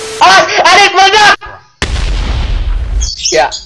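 In the block-building game Mini World, an egg bomb goes off with a sudden loud burst and a rumbling decay, coming right after excited shouting; a voice briefly speaks again near the end.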